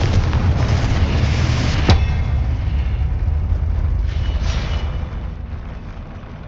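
A Confringo spell explosion in Hogwarts Legacy bursts with a loud, sharp blast near two seconds, set within a dense, rumbling wash of game combat noise that slowly fades.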